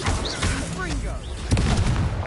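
Expelliarmus spell cast in the Hogwarts Legacy video game: a burst of magical whooshes and impacts over a constant layer of combat sound effects, with a voice shouting at the same time.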